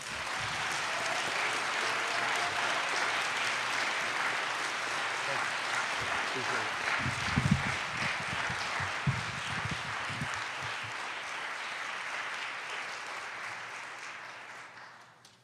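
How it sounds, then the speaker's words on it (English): Audience applause welcoming a speaker to the stage at a college Martin Luther King Jr. Day convocation, a steady sustained clapping that fills the whole stretch and tapers slightly at the end. "welcome him to the stage with a warm round of applause"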